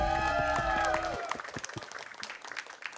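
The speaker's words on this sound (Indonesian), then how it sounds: "Coba tepuk tangan dulu." Supporters in an audience clap together, loud and dense at first with music fading out underneath, then tapering into scattered claps and light crowd noise.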